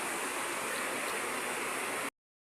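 Water runs steadily over salted ampalaya, or bitter gourd, being washed by hand, a close and even rushing splash for about two seconds that then stops abruptly.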